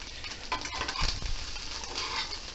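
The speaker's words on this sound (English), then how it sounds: "Make sure to give it a scrape occasionally. Mix it up so it's all nice and cooked." Food frying in a pan on a burner while a utensil scrapes and stirs it, a steady close sizzle with intermittent scraping strokes, no voices.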